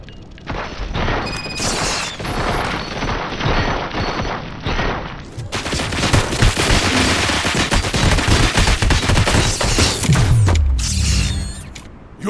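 Sustained gunfire rips through a battle in the RoboCop Rogue City video game, rapid automatic bursts and heavy impacts layered loud and dense, with mechanical clatter and a booming hit near the end.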